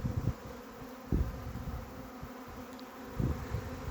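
Honey bee swarm settling at a hive, a faint steady buzzing hum with soft swells and a few closer passes, continuous across the short stretch.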